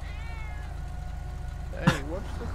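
A cat gives a single short meow near the end, clear but brief, over a low steady engine hum.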